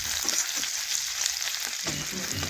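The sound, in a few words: frying ginger with cumin and five-spice in oil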